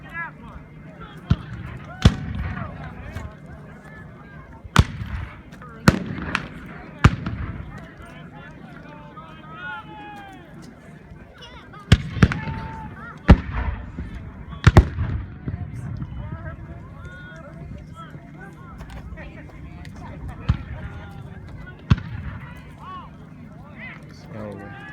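Scattered sharp black powder gunshots crack out irregularly at a Civil War reenactment in Arizona, some near and loud, others fainter, over a constant murmur of outdoor crowd noise and voices.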